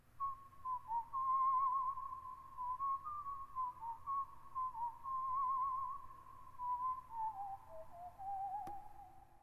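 A single person whistles a melodic tune steadily and clearly for several seconds, with a soft background hum and a brief click near the end.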